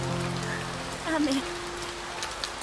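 Steady rain falling on a surface in the visual novel Gin'iro, Haruka, a continuous hiss running throughout with soft music tones over it.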